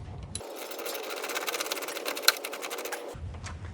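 A steady whirring power-tool buzz lasting about three seconds, close and even, as a bolt on a Pride mobility scooter canopy mount is driven tight.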